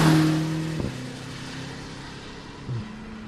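The turbocharged engine of a 2025 BMW Alpina XB7 pulls under acceleration as boost builds. A steady harmonic drone steps to a new pitch twice, as if through gear changes, heard fairly faintly from inside the cabin.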